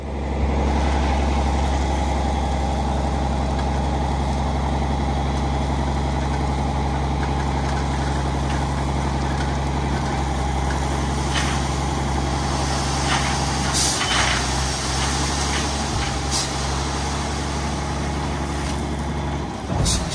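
A truck engine drones loud and steady for about twenty seconds while it pulls a vehicle stuck in soft ground on a driveway, with a few sharp hisses and clicks near the end.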